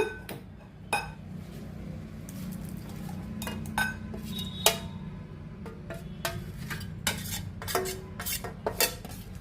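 Cooked chicken kebab mixed in a bowl with a spoon, giving scattered clinks and scrapes of utensil against dish over a soft background hum, no talk.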